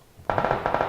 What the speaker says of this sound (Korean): 무슨 총소리야 그리고 저거 샷건이야?